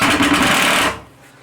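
A power drill drives a screw into a table in one loud, close, continuous whirring burst of just under a second that stops abruptly, then goes quiet.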